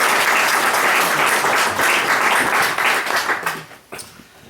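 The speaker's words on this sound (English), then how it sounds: "So if we give a little round of applause." A lecture audience breaks into warm, dense applause, many hands clapping steadily at full strength before it thins out and fades over the last second.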